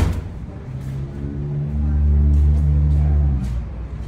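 A Chery Tiggo 5 car engine hums low and steady, swelling louder midway as it accelerates, then easing back, heard close without talk.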